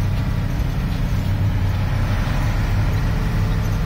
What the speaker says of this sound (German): Aber die Motorgeräusche sind überhaupt nicht geil. Laut.